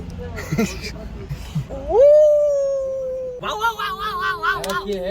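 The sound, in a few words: person imitating a dog howling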